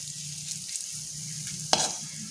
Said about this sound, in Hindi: बहुत ज़्यादा हमें मेवे को नहीं भूनना है